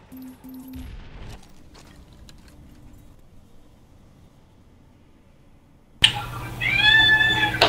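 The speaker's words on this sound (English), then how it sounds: "He's meowing like that." A pet cat meows a few times early on, faint and short against a quiet indoor room, followed by a long near-silent gap and then a sudden burst of louder noise and voices at the end.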